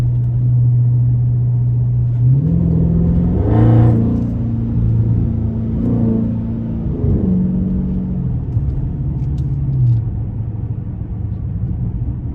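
A 2021 Dodge Charger Scat Pack with 5-inch Carven exhaust tips gives a loud, deep, steady exhaust drone that rises into a couple of revs and shifts, then settles back to a low rumble.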